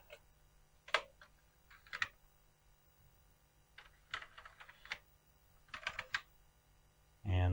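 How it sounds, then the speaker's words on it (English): Keys pressed one by one on an Amstrad CPC 464 home computer keyboard during a keyboard test: sparse clusters of quiet, close clicks with pauses between them, ending in a louder thump. "we can run the keyboard test and check all the keys"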